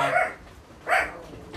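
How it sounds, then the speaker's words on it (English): A pet dog gives two short barks, one after the other with a gap between, close by and fairly loud indoors. "That's my dog."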